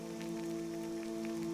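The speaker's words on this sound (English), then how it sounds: "meditate all night with the rain falling on us" Rain falling in Skyrim Special Edition: a soft, steady patter over a low sustained tonal hum, quiet and unbroken throughout.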